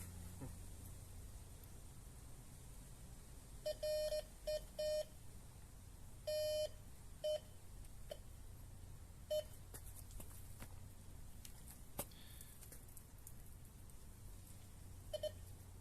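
A metal detector reacts to a cell phone with clusters of short, sharp electronic beeps, some in quick bursts and some single, separated by pauses over a steady hiss of background noise.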